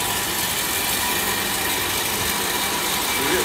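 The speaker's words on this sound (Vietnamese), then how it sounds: "Quý vị các bạn có thể nhìn thấy nó quay, cái tông của nó rất là êm. Nghe tiếng của động cơ." Motor of a soybean grinding and squeezing machine running empty with no load, a steady, smooth, even hum close by and alone with no talk.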